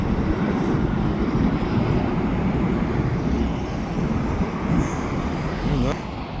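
CPKC freight train rolling through a rail yard, a steady loud low rumble that holds for the whole stretch, with a faint high squeal near the end.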